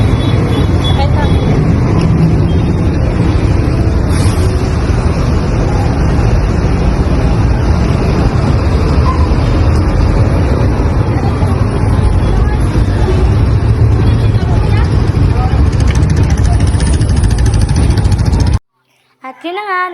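Riding inside a vehicle on a hot day, steady loud road and wind rumble fills the ride continuously, cutting off near the end.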